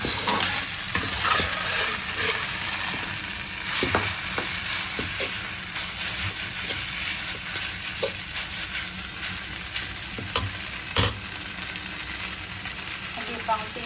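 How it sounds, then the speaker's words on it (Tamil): Noodles frying in a pan with a little salt for a baby-food Singapore mehun dish, a steady sizzle with repeated scraping stirs throughout, close and fairly loud, no talking. "இதில் லேசாக உப்பு போட்டு பொரிச்சுப்போம்."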